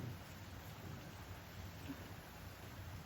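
Rain from a typhoon begins to fall outdoors, a soft, steady patter and hiss that stays faint and even throughout, with no talking.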